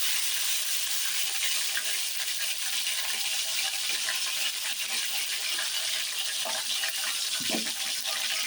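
Chopped green chillies sizzle steadily in hot oil in a pan, a continuous close frying hiss with faint crackles and no voices.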